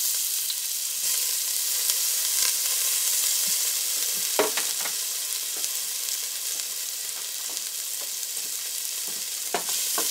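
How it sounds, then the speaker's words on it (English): Chopped ginger fries in a pan with turmeric powder for aloo gobi, giving a steady, soft sizzle with a few scraping clicks from the stirring. "You want to be sure to stir the ginger up so that it gets nice and crispy"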